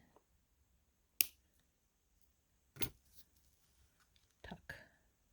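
Small scissors trim thread during bead jewelry making, giving three or four brief, crisp snips spaced a second or more apart in an otherwise quiet room, close and soft.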